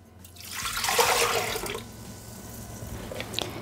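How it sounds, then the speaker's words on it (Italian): Water pours from a container into a Thermomix TM6 mixing bowl, a splashing gush that rises and then tapers to a thin trickle and drips, heard close with no talking. "Iniziamo la ricetta mettendo all'interno del boccale l'acqua"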